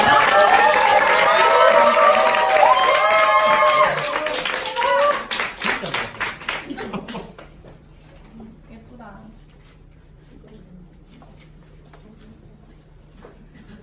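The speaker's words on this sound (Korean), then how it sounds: "큰 박수 부탁드립니다" An audience at a beauty creator academy event gives a big round of applause. The clapping and cheering are dense and loud, then thin out and fade after about seven seconds, leaving quiet room tone.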